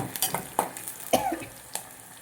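Garlic, chili, mustard seeds and cumin seeds tempering in hot oil, with a soft crackling sizzle and a few sharp pops and stirring scrapes at irregular intervals, close and moderately quiet.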